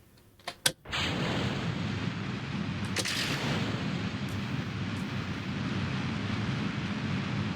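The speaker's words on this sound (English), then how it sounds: "They are really, really loud rockets" After a few brief clicks, rocket engines in a video game ignite with a sudden thunderous roar and hold a loud, rumbling launch blast throughout.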